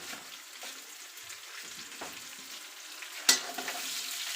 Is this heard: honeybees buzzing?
no